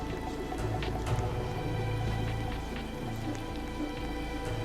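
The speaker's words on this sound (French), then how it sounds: "Il pleuvait très fort, forte pluie." Heavy rain in a video game pours steadily, a dense hiss of drops with occasional louder splashes, continuous and fairly close.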